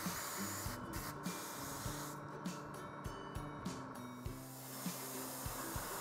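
An airbrush sprays the original paint colour over post shading on a 1/48 Kitty Hawk AH-1Z Viper model kit, a steady soft hiss with brief pauses and light clicks, quiet and close with no talking.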